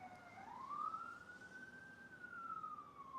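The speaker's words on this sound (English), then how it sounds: "they got some ambulance going on" An ambulance siren wails, rising and falling in pitch at a steady, moderate loudness over a low hum of city traffic in San Jose, Costa Rica, with no one talking.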